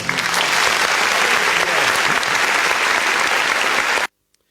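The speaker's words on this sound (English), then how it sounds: "give her a round of applause there as well." Loud, full crowd applause at a live show after a birthday song, holding steady for about four seconds before cutting off abruptly into silence.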